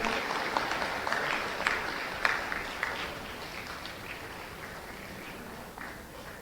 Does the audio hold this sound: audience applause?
yes